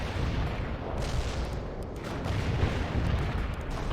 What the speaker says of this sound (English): Cluster bombs are armed.